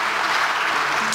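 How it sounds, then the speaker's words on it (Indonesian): Dense, even audience applause fills a short burst at a school education report event, loud and close with no gaps. "Jadi boleh tepuk tangan untuk yang ada di sekolah"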